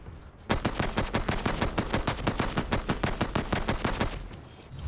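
A heavy machine gun fires in the video game Commandos Origins. It lets off one long, loud, rapid burst of evenly spaced shots lasting about four seconds, then falls silent apart from faint game ambience.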